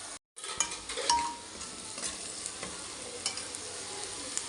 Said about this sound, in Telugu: ఉల్లిపాయ వేయించుకుంటూ ఉండాలి